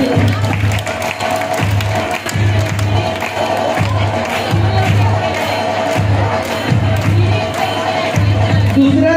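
At a school painting competition prize announcement, a crowd applauds and cheers in a dense, sustained wash of clapping and voices, with a steady low hum running beneath it.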